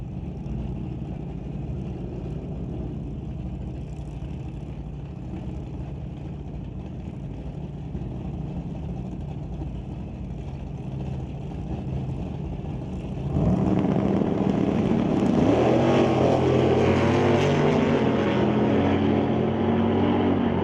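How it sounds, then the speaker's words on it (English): A Model A hot rod and a 1965 Dodge Coronet drag race at a hot rod meet: a loud steady engine drone swells abruptly into a harder roar as the cars launch and pull away, with no talk. "The White Knuckle Racing Model A will now race against the 65 Coronet."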